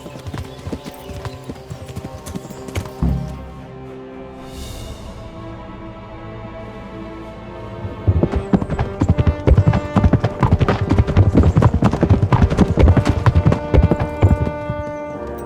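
Horse hooves in Kingdom Come: Deliverance clop lightly at first, then break into a loud, fast gallop that pounds on through the second half over game music.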